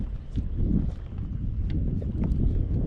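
Blustery wind roars against the microphone over choppy water on Saginaw Bay while someone paddles a kayak, a steady rumbling buffet with small lapping splashes mixed in.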